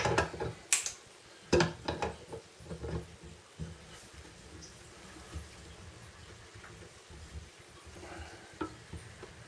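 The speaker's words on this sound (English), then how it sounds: "Just screw that into there, back into the old vise, and then just nip it up a touch." Part of an airsoft collapsible stock being tightened in a bench vise, heard as a few sharp metallic clicks and knocks up close, then a quieter stretch of faint ratcheting handling.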